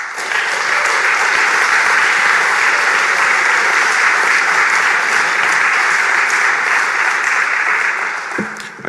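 Loud, sustained applause from an audience at a Libertarian political speech fills the room evenly for about nine seconds before dying away at the end.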